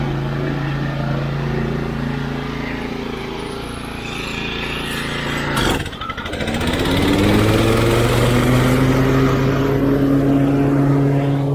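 An Exmark Commercial 30 X-Series walk-behind lawn mower runs close and loud with a steady engine drone. Midway there is a brief dip with a sharp clatter, then the engine climbs back to a higher, steadier pitch.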